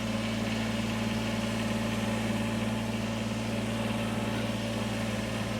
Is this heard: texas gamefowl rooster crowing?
no